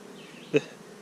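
Honey bees buzz around an open hive during a summer inspection, a soft hovering drone with one bee swooping close and loud for a moment before fading back into the background hum.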